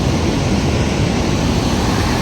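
Glacier-fed river near Zero Point, Yumthang Valley in North Sikkim, rushing with force as a loud, steady, broadband roar of water that fills the whole stretch with no voices.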